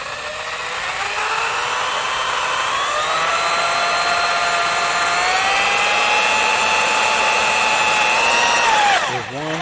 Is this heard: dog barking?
no